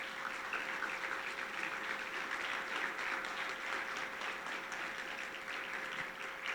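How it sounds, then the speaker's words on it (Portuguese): A church congregation claps hard and continuously in a steady, even wash of applause, with a faint tone running underneath. "Você pode aplaudir Jesus o mais forte que você puder?"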